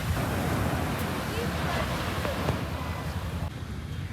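Cold wind blows at Kollam beach, a broad rushing roar mixed with surf, close and steady with a few gusty bumps and faint clicks.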